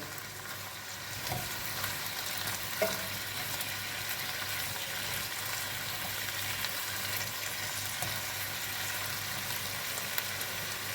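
Tripe frying with onions in a pan gives a steady, soft sizzling hiss that runs continuously, with a couple of faint clicks from the pan and no voices.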